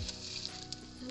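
Edible gum (gond) frying in hot oil until light golden, a soft steady sizzle with faint crackles and pops, close but fairly quiet.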